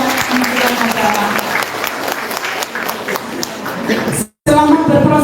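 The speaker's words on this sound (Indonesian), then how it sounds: "Tepuk tangan buat Kementerian Agama." An audience claps at an Indonesian teachers' association anniversary event. The applause is loud and dense and runs almost to the end, then drops out briefly before a voice returns.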